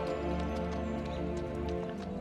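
Horses' hooves clip-clop in a steady rhythm under a sustained droning musical backdrop, moderately close and fairly quiet, with no talk.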